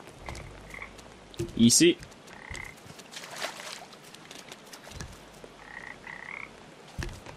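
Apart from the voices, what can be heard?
frogs croaking in the video game Papo & Yo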